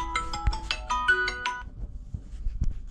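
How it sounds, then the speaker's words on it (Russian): A phone ringtone plays for an incoming call, a bright melodic chime of several quick tones for about a second and a half, then quieter background noise with a faint click. "О, мне звонят. Кто-то звонит."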